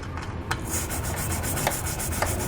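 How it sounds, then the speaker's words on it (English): Scraping and brushing rust out of weld nut bolt holes in the frame of a 2019 Nissan Rogue during a trailer hitch install: steady close rasping and rubbing with a few sharp scratchy strokes, no talk. "You want to clean out each one of the holes, the 3 on the driver's side, as well as the 2 on the passenger side."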